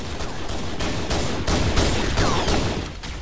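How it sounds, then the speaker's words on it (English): Rapid bursts of pistol fire in Halo: Combat Evolved Anniversary, loud and close, shots coming in quick repeated volleys with brief gaps between clusters across the whole stretch. "Unloading pistol clips in your ass."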